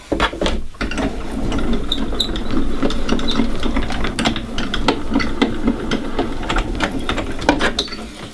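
A hand-cranked embossing machine rolls a card sandwiched with an embossing mat through its plates, giving a continuous close ratcheting, grinding mechanical churn with clicks, steady for about eight seconds.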